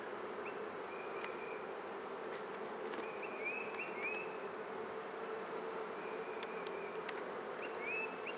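Honey bees buzz in a steady, close drone throughout a spring beehive inspection, with a few higher whining passes from individual bees flying near and no talking.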